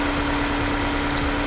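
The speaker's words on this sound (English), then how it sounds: "So, as you can hear from this, the car's off the cylinder, it's misfiring." A Honda S2000 engine idles with a cylinder misfire, giving a brief, steady low mechanical hum that is fairly quiet and heard alone.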